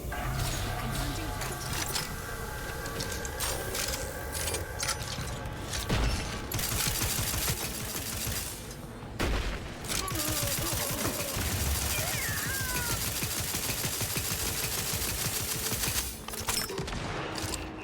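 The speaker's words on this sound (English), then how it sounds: "I can't even see who's shooting at me." Gunfire in The Outer Worlds 2 crackles in rapid, overlapping volleys with mechanical clatter, a dense, continuous battle din with voices mixed in.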